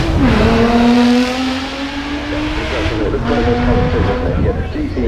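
A McLaren P1 GTR race car in James Hunt Wellington College colours launches from the Goodwood Festival of Speed start line. A loud engine roar rises in pitch, eases off briefly, then climbs again through a second gear pull.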